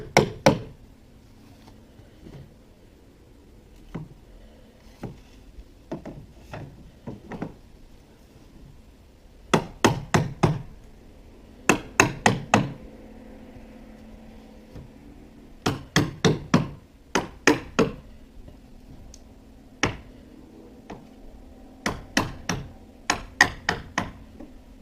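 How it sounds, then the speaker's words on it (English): Hammer tacking nails into a fascia board, sharp close knocks in irregular clusters of quick strikes separated by pauses, with a low background hum underneath. "tack your fascia board in place, not fully nailing it"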